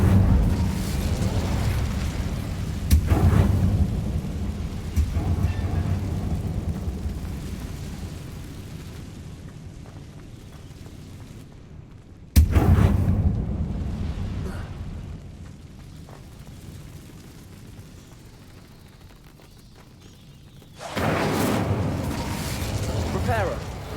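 Bursts from a fire spell cast in the Hogwarts Legacy video game, with sharp booming onsets at roughly three, twelve and twenty-one seconds that fade slowly, under a voice talking and the game's background music.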